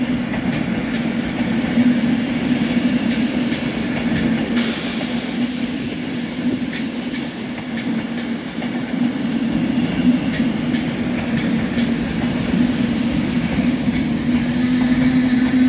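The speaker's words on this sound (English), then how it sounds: "Arriving in now is another Avanti West Coast Pendolino" An Avanti West Coast Pendolino pulls into a station with a steady low rumble and a drone of wheels and motors, plus faint rail clatter, continuous and fairly loud throughout.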